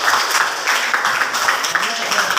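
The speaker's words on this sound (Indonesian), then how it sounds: "Silakan kelompok beri aplaus kelompok 2." Applause from a classroom group for the second group, a dense steady patter of many hands clapping, fairly close, lasting a couple of seconds with a voice or two mixed in.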